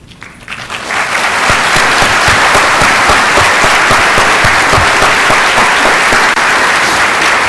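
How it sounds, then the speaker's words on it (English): A large conference audience bursts into sustained, loud applause for early career travel grant awardees, a dense steady roar of many hands that swells in quickly and holds. "please stand and receive our applause"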